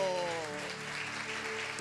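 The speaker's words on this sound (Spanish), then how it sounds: "¡Aplauda a Jesús!" A congregation at an evangelical home gathering claps for Jesus: brief, fairly soft applause beneath a sustained voice and tonal background.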